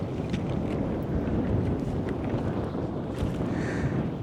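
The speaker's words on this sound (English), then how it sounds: "this wind is brutal. Gust over 20. It's literally blowing my boat everywhere." Strong wind gusts buffet a fishing boat out on open Florida water, a steady loud roar of wind noise on the microphone with faint water sloshing underneath, no voices.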